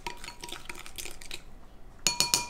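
Yeast, water and sugar stirred in a bowl while making bread, a spoon scraping and tapping in quick soft strokes, a short pause, then a few brighter metallic clinks against the bowl, close and quiet.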